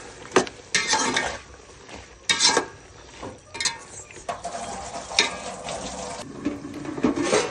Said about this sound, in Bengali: ঢেলে দিয়ে ভেন্ডিটা দিয়ে চিংড়ি মাছ মশলা দিয়ে এগুলো ভালো করে একটু কষিয়ে নিতেছে